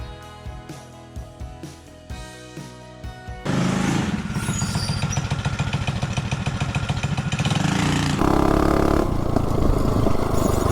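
A motorcycle with a stock cam sits idling with a slow, lumpy putter, then launches hard into a loud, sustained rev from a standstill, pulling through gears on a top-speed run with a brief dip before winding up again. No talking.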